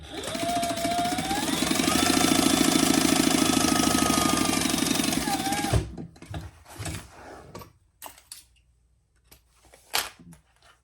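A sewing machine stitches across the bottom of a pocket, its motor whirring loudly and steadily for about six seconds before stopping, followed by a few quiet clicks and handling noises.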